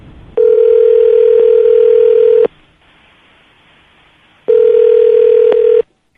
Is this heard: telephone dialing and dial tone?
yes